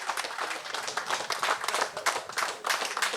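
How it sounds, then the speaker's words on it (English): Crowd applause at a community tribute event for a national basketball player, a steady dense patter of many hands clapping, fairly close and filling the room throughout. "So give him a round of applause"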